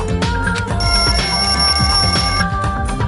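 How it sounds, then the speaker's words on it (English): A wall clock alarm in the lounge of the video game Danganronpa 2 rings steadily and loudly, a bright electronic bell tone over a busy musical backdrop. "The lounge's wall clock alarm started ringing at 5:30"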